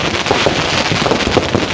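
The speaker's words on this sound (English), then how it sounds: "Along the front we've got some crackles as well going on, so there's lots of noise." A fireworks display finale at St James in the City, Liverpool, fires cakes and crackles in a loud, dense, continuous wash of bangs and crackling with no gaps.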